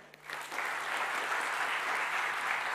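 Audience applause at a tech conference stage event, a dense, steady clapping that swells in quickly and holds loud and even throughout.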